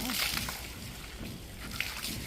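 Water sloshes and splashes in uneven bursts while cattle are washed in cold water in a village, with a voice talking over it.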